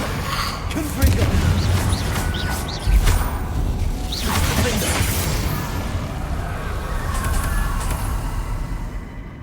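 A Confringo blasting spell in Hogwarts Legacy whooshes and bursts with several booming impacts early on, followed by crashing combat noise that fades into a steady rumble.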